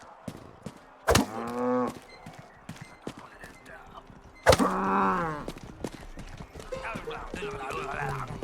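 In the video game Rustler, a cow gives two loud, drawn-out moos a few seconds apart, with hoof clip-clops, thunks and other game sounds scattered around them.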